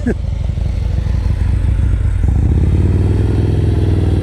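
Motorcycle engine idling and pulling away at low speed during a slow-speed riding skills practice session in Pooler, a steady mid-range drone that swells slightly with throttle partway through, heard close with faint background voices.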